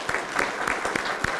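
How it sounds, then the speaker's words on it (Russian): Close applause at a Lobachevsky medal and prize award ceremony, a dense run of hand claps from a small group, steady and fairly loud throughout the short moment. "Будут звучать аплодисменты"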